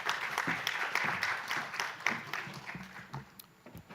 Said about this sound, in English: Please, a round of applause for Ramesh.